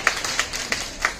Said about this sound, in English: Sometimes people clap or something.